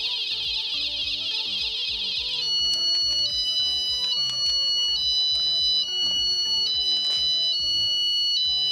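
A loud, piercing electronic bicycle alarm blares continuously, first as a steady high tone, then switching to a warbling, stepping siren pattern.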